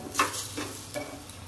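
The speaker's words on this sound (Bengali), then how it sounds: "চটপট করছে মানে এটা ভাজা ভাজা হয়ে গেছে।" Rice crackles and sizzles as it fries in a pan at home, a close, steady hiss with a few sharper stirring scrapes and pops scattered through it.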